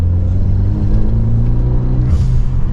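Renault Mégane 3 RS Cup engine revs up loudly from close range, a deep rumbling surge that climbs in pitch and then eases back, with no speech over it.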